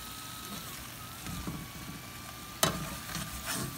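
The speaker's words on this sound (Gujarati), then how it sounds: "આપણે સમોસા લગભગ 7 થી 8 મિનિટથી આસ્તે આસ્તે અહીંયા તરાય છે" Samosas fry slowly in hot oil, a soft steady sizzle running throughout with a sharp clatter partway through and light kitchen handling noises, no talking.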